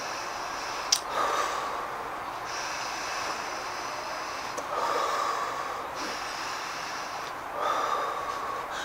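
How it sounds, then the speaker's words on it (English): A person taking three big deep breaths, heard as slow, close, airy inhales and exhales spaced a few seconds apart, soft and breathy with a brief sharp intake at the start and no talking. "3 big deep breaths."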